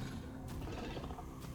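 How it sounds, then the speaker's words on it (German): A lycanthrope in Baldur's Gate 3 lets out a rough, broadband roar that fills the whole short stretch, loud and close with a steady, growling texture throughout. "Das ist ein Lykanthrop."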